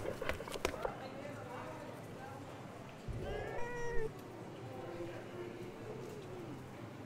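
A cat meows a few times amid a busy cartoon-style soundtrack with other animal noises and effects, moderately faint and partly masked.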